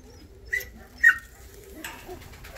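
A few soft calls from yellow Volski pigeons sound over a quiet background, two short brighter notes followed by a fainter one.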